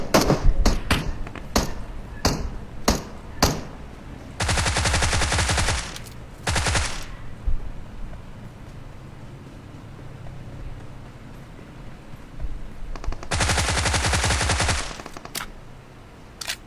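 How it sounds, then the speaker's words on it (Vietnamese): Gunfire rattles through a video game: sharp single shots in quick succession, then two sustained automatic bursts separated by quieter gaps, moderately loud with no talking. "đang bắn nhau bên kia anh em ạ"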